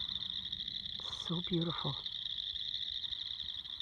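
Night chorus of tree frogs and crickets on a Northwest nature walk, a steady high trill running throughout, with someone speaking briefly over it.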